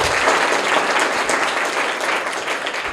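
Loud, dense applause from a school audience cheering the first winner of a quiz, continuous clapping throughout with no talk over it.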